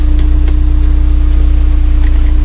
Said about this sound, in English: I can rev it up in the garage, and it's not very loud at all